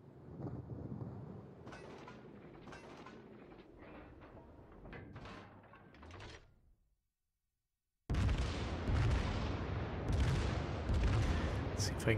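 Heavy warship gunfire in World of Warships, with booming salvos and rumbling thuds over a low engine drone, a short silent gap, then a loud dense barrage.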